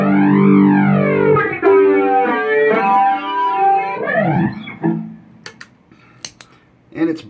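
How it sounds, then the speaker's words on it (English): Electric guitar through a flanger pedal combined with distortion, gritty chords swept by a sharp jet-like whoosh for about five seconds, then fading into faint scattered clicks and taps. "Add a bit of distortion and it sounds fantastic."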